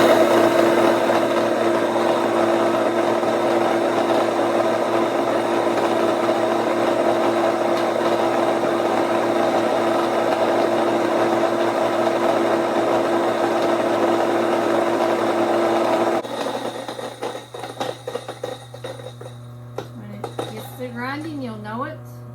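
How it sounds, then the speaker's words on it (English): Electric grain mill grinding grain: a loud, steady, dense mechanical whine and rattle running continuously for many seconds, then dropping away as the motor is switched off, leaving a fading hum and a brief rising tone. "Grinding, you'll know it."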